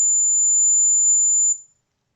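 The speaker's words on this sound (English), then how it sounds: "When I will place on, buzzer is on" A buzzer driven by a NodeMCU board over IoT gives one continuous, steady high-pitched tone for about a second and a half, then cuts off into silence.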